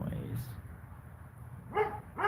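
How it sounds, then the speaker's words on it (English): Dogs next door bark in two short bursts near the end, moderately loud over a low background hum, with no talking. "now it's the dogs next door."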